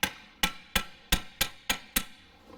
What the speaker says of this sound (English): I just take a hammer and that little tool that fits it and just give it a tap or two